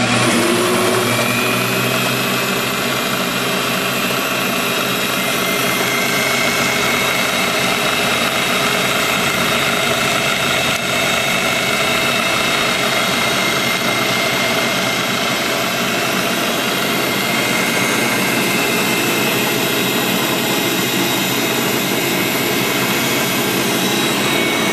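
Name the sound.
rebuilt South Bend drill press running at its highest speed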